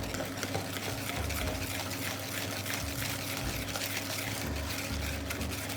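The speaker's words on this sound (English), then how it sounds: "I'm going to put a splash only of the hot milk." Hot milk poured in a thin splash into egg yolks while they are stirred, giving a steady, close liquid pour and soft trickle with mixing sounds running continuously throughout.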